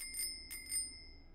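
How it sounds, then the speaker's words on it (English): Three bright rings of a bicycle bell attachment in the VR game Hot Dogs, Horseshoes & Hand Grenades, evenly spaced with a soft tail, clear and close over a quiet background. "bicycle bell."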